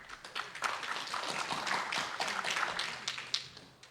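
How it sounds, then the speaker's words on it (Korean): An audience applauds at a citizens' regional meeting, a dense, steady patter of many hands clapping from start to finish, moderately loud and somewhat roomy. "큰 박수 부탁드리겠습니다."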